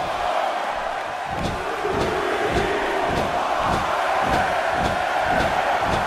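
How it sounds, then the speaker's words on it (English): Crowd roar from a wrestling arena in the video game WWE 2K18, during a TV championship title match, with steady broad noise and regular impact thuds as wrestlers hit the mat. "This crowd has literally been on the edge of their seats ever since this title match kicked off."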